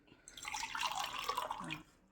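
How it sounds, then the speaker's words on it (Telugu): A short, close splash of water being poured into a pot of rice, steady for about a second and a half before tapering off. "ఒకటికి 2 గ్లాసులు వాటర్ పోయాలి"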